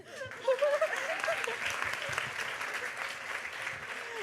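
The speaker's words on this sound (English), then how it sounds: "Another big round of applause for these girls." Applause from a school assembly audience during an anti-bullying event, a broad steady clatter of many hands lasting throughout, with a few cheers and whoops rising near the start.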